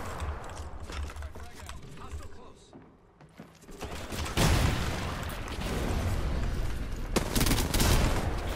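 Rapid bursts of R9 gunfire from a video game crackle in several dense volleys, loudest in the second half, over faint background voices.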